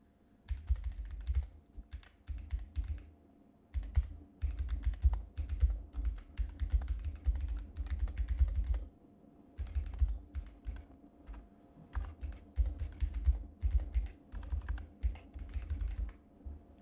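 Fingers tap steadily on a computer keyboard in quick bursts broken by short pauses, the clicks close and fairly quiet with no talking.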